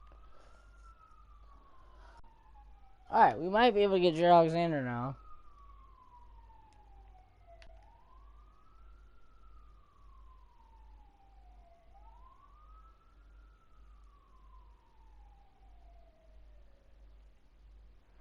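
A police siren wails in long, slow rising and falling sweeps, fairly faint and distant, with a short burst of speech over it early on.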